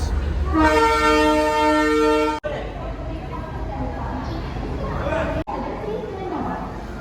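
A loud, sustained train horn blares for about two seconds at a station platform, then a Visakhapatnam–Banaras train rumbles and hisses nearby as voices talk in the background.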